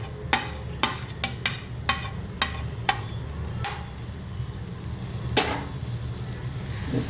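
Chopped tomato and curry leaves fry in a pan for egg masala with a soft steady sizzle, while a spoon scrapes and taps the pan in a string of sharp strokes, close by.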